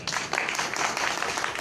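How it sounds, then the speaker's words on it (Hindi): Applause from a seated audience at a business motivation talk, a short burst of brisk clapping that fills the room, heard without speech. "एक जोरदार ताली।"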